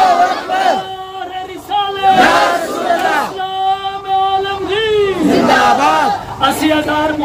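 A large crowd at a religious gathering chants a slogan in answer to a takbir call, with loud, drawn-out massed voices rising in repeated waves.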